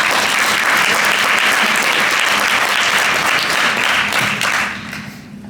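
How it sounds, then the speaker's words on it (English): Audience applause at a live Swift developer conference concert after a band's performance, a dense, sustained burst of clapping from a large crowd that fades out toward the end. "So a big round of applause once again for all of this."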